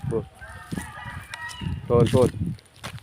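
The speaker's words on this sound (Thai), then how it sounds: "โอ้ไก่เพิ่นหลายเด้อ" Burmese fighting chickens raised around village homes crow and cluck nearby in short, close calls, with someone talking over them.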